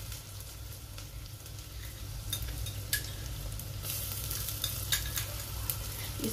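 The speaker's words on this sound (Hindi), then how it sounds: "अब इसमें हम लहसुन अदरक का पेस्ट डालेंगे।" Garlic and ginger paste frying with bitter gourd and chana dal in a pan, giving a steady close sizzle with occasional stirring scrapes throughout, no talking.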